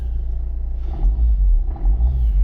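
A 2010 Vauxhall Corsa D engine running just after starting, a loud close low rumble that steadies and swells slightly in two surges, with no voices.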